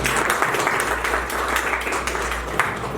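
An audience clapping at a felicitation event in Nashik honouring a yoga Guinness World Record holder, a dense, steady round of applause filling the room for a few seconds with no talk over it.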